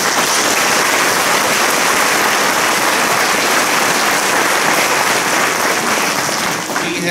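Audience applause at an elementary school veterans program, loud, dense and sustained throughout with a rain-like wash of many hands, barely tapering at the very end.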